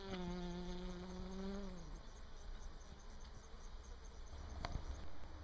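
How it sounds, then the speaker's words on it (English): Insects buzzing in a meadow, a faint, steady drone with one insect flying close at the start, its whining hum sliding down before fading into the quiet background. "it's very clear why the sound of this meadow is the sound of buzz, buzz, buzz."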